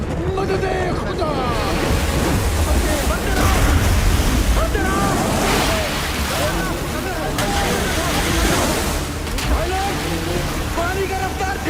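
A river rushes and churns in a continuous broadband wash, with wind buffeting the microphone and voices calling out faintly over the water.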